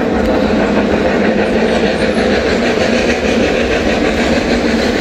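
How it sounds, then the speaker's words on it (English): Snowdon Mountain Railway train running at the bottom of the Llanberis path in fog, heavy rain and strong wind, a steady rumbling rail noise with faint clickety-clack continuing throughout. "The noise you can hear is the train."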